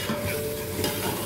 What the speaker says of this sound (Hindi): अब मैंने इसको अच्छी तरह भूनना है